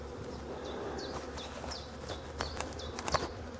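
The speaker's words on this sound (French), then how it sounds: "c'est pour ça qu'il y a des abeilles" Bees buzz faintly around, with soft insect hum and a few brief chirps from birds in the distance.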